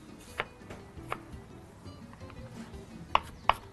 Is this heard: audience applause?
no